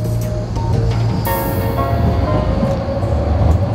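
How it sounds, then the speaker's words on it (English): A Docklands Light Railway train pulls out of Greenwich station toward Bank, giving a steady low rumble with rising motor tones and a brief high-pitched burst partway through, loud and close. "And off goes the DLR train for bank"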